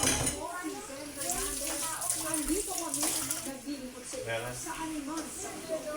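Running water splashes steadily while things are washed, with faint clinks of dishes in the background, as people talk over it throughout.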